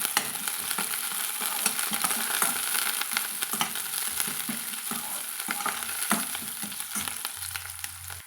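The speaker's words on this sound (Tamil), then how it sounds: "நம்ம ஒரு ரெண்டு நிமிஷத்துக்கு வெங்காயத்தை வந்து வதக்கலாங்க" Sliced onions with green chillies and curry leaves sizzle and sauté in a pan for a cauliflower dish, a dense, steady frying hiss close by with scraping stirs throughout and no voices.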